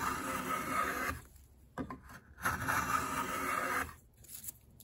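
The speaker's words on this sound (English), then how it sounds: "Now I'll spend some time planing the edges smooth with the side of the box." Hand plane smoothing the edges of a wooden box, long scraping, rasping strokes at close range, three main passes separated by short gaps with light knocks.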